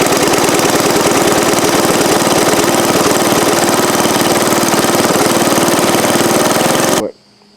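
Small engine of a 1965 John Deere 110 lawn tractor running steadily with a loud, continuous, slightly knocking drone that holds for about seven seconds, then cuts off abruptly into near silence.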